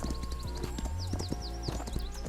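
Horse hooves clip-clopping in the video game Equinox: Homecoming, a steady run of close, distinct hoof strikes over a soft background tone, with a faint whinny-like sound and no talking.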